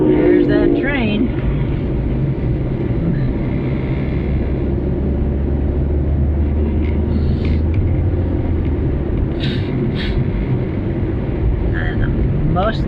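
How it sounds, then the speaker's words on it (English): A heavy, continuous rumble of a passing train fills the whole stretch, steady and loud, with a few faint higher squeals near the end. "There's that train."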